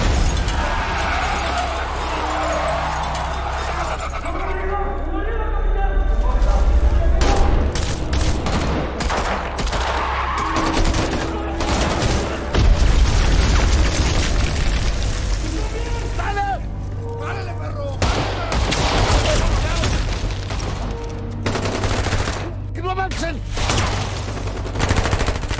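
Gunfire erupts in a Mexican cartel action film, with loud bursts of shots and fusillades recurring throughout amid dense action-scene noise and music, while a narrator talks over much of it.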